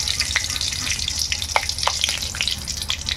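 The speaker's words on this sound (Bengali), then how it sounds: "কড়া গরম হয়ে গেছে, আমরা শুকনো লঙ্কা আর কাঁচা লঙ্কা দিয়ে দিলাম।" Dried red and fresh green chillies hit hot mustard oil in a wok, a loud close crackling sizzle with sharp spitting pops over a steady hiss, no voices.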